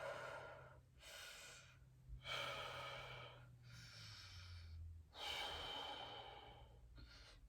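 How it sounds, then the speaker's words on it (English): Slow, deep breaths during a stretch, three long inhale-exhale cycles heard up close, each breath a broad airy rush separated by short pauses, with no talking. "3 breaths."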